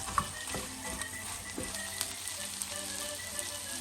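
Mirepoix of small diced carrots and celery fries in a pan, giving a soft, steady sizzle with a few faint stirring scrapes and light pops. It stays fairly quiet and continuous, with no talk.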